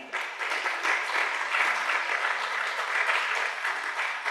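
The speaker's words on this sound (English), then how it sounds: "Let's clap for them one more time." Steady, dense applause from an audience at a UN Volunteers Kenya event, many hands clapping together for the panelists. It holds constant and fairly loud throughout with no pauses and no voices over it.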